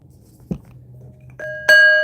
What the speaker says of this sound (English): I'm gonna ring my bell and get us in tune with spirit